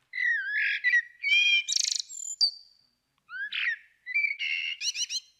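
A clarinet imitates a blackbird's song in Messiaen's Quartet for the End of Time, playing bright, warbling birdlike phrases with quick trills and chirps, pausing briefly midway before resuming, clear and fairly soft.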